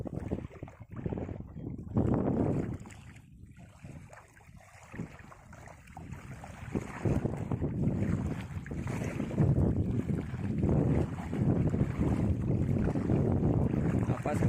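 A surging sea by a fort churns and rushes under strong gusting wind, with loud swells of water and buffeting wind noise rising and easing, then building again to a sustained roar.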